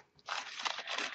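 Scrap paper crunched and crumpled by hand, a dense crackling burst that starts after a brief quiet beat and continues steadily for about a second, close and fairly loud with no talking.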